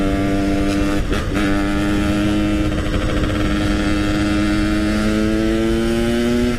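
A motorcycle accelerating on a Jakarta street, its engine note rising steadily and loudly up close, with a continuous wind and road roar throughout.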